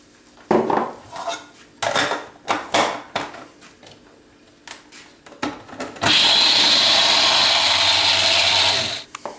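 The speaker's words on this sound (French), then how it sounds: "Je rajoute le reste de mes olives." Olives tumble into a bowl with olive oil for a tapenade, a series of sharp clinks and clatters against the dish, followed by a sustained loud rattling, scraping burst of several seconds, close to the microphone with no talk.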